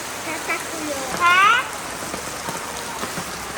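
Heavy morning downpour over a village, a steady dense hiss of rain filling the whole clip, with a brief faint voice-like tone partway through.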